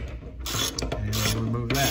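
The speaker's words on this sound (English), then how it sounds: "So we'll use a 22 millimeter socket. Our extension with a wrench," A ratchet wrench with an extension and a 22 mm socket turning to loosen a part on a pressure regulator, giving close, loud bursts of rapid clicking pawl ratcheting in several quick strokes.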